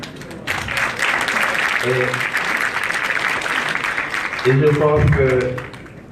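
An audience at an opposition political meeting in Senegal applauds, a sustained dense wash of clapping that swells slightly near the end, with brief voices calling out over it.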